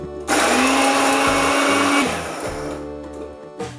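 A coffee grinder pulverizes small broken pieces of dried kelp, a loud, steady high-pitched motor whine that runs for about two seconds, then winds down and fades.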